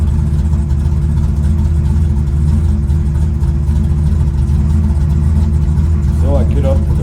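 Drag racing car held on a two-step launch limiter set at 3,400 RPM at a dragway, a loud continuous close engine drone with steady buzzing rhythm, overlaid by a person talking.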